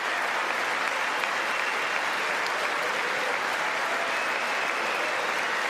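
Sustained, dense applause from a large audience in the chamber at the 2019 State of the Union address, a steady roar of clapping throughout.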